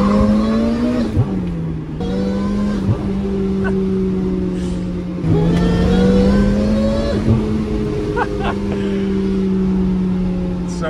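A supercharged Toyota Celica GT-S pulls hard at full throttle, heard from inside the car: a loud, close engine drone climbs steadily in pitch, drops sharply at each gear change, then climbs again.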